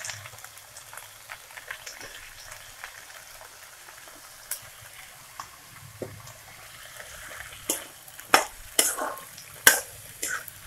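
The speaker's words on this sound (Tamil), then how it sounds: "நல்லா எண்ணெயில் கத்திரிக்காய் வதங்கணும்." Eggplant sautéing in oil in a pan, a soft low sizzle with occasional stirring scrapes and sharper clatters of the spoon toward the end.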